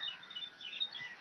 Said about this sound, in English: I can hear a lot of bird sounds.